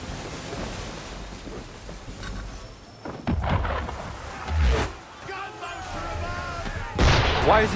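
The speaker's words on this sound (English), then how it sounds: "Why is he shooting at us?" Cannon fire from a ship in the video game Assassin's Creed 3: a few heavy booms spaced seconds apart over an outdoor wash of water and wind, with a voice briefly heard.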